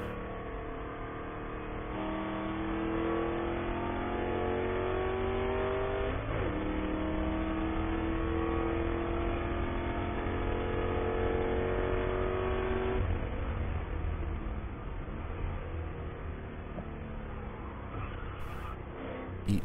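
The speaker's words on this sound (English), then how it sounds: "I'll give you guys a little bit of engine noise from that V8 as we work our way around the track." V8 race car engine lapping a track during a ChampCar endurance race in North Carolina, loud and close, revving up through the gears with shifts and steady high-pitched drone, easing off toward the end.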